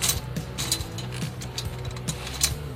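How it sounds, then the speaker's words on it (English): Threaded drum tension rods being turned into the lugs around a drum rim give a steady run of small metallic ratcheting clicks and scrapes, close and moderately loud, with no talking. "I'm going to put the threaded tension rods into the lugs"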